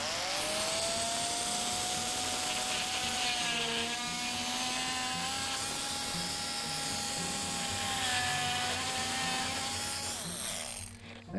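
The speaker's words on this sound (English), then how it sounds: "I just use this little, what is this called? Oscillating saw, to make a little notch in one end." Oscillating multi-tool saw cutting a notch into a piece of scrap wood, a close, steady high buzzing with a slightly wavering pitch that runs for about ten seconds, then stops.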